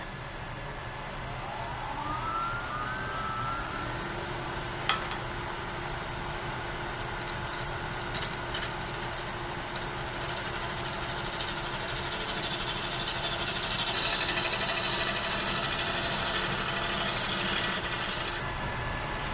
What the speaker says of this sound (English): So we will put the scraper on again, and we will scrape this back just a little bit.